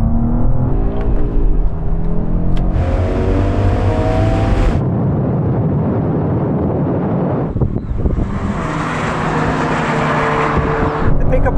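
A BMW M2, Audi RS3, Mercedes-AMG A45 S and Porsche Boxster GTS accelerate hard side by side in a drag race, engines roaring and rising in pitch through gear changes, with heavy wind buffeting on the microphone.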